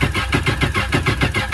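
A 1000cc-injector jet ski engine running on alcohol flex fuel fires up, giving a loud, close, pulsing mechanical chug with a steady rhythmic beat through the short burst.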